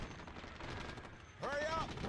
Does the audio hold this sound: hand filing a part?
no